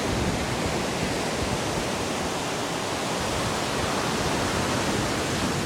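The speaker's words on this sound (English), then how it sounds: "I just sit there, close my eyes, listen to the waves." Steady, dense roar of ocean waves breaking on the shore, close and continuous with no pauses or talk.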